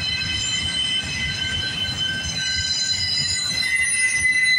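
A freight train rolls past nearby at night on the Galt Subdivision near Guelph Line, with a constant low rumble and high, sustained wheel squeals ringing over it, with no voices.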